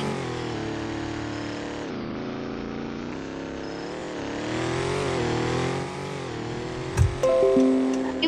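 Engine of a 2021 Dodge Durango SRT driven fast in the Roblox game Greenville RP, a steady loud droning rev that shifts pitch as it accelerates, with a brief clunk and higher whine near the end.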